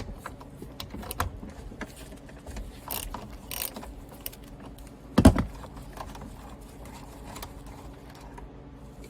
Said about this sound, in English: you have another T30 Torx head bolt in there that you gotta loosen